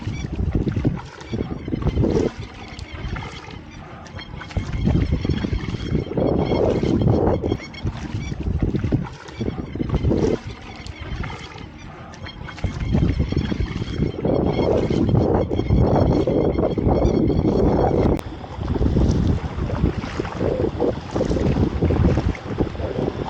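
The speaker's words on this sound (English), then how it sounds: "Let's get some paddling happening." Kayak paddling on a tidal river among mangroves, with water sloshing in steady rhythmic strokes close by, wind buffeting the microphone throughout and no talking.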